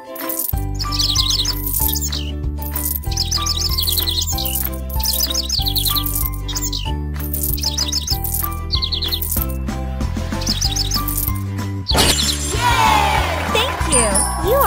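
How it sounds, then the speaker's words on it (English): Cartoon birds chirp and tweet in repeated short bursts over a bright, looping tune in a pony-care kids' video game, with a jingling shimmer near the end. "Let the birds sing."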